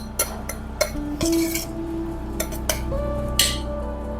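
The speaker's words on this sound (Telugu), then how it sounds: "లంచ్ బాక్స్ పెట్టేస్తున్నాను" Steel lunch box and dishes clink and clatter in a home kitchen as a school lunch is packed: several sharp metallic taps and one ringing scrape, close and moderately loud, with no talking.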